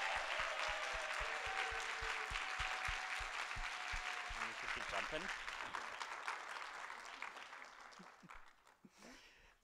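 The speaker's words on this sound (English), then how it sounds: "Let's give them a very warm round of applause." A conference audience gives a warm round of applause, steady broadband clapping from a large crowd heard faintly at a distance, with a presenter's voice speaking over it and the clapping gradually thinning toward the end.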